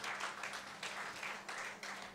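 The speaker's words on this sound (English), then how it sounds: "Give a big applause for sir." Faint audience applause at a university book release function, a continuous wash of clapping from a hall crowd, heard at a distance and at low volume.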